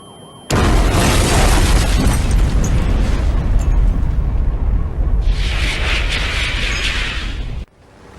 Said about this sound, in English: I'm scared the explosion will hurt.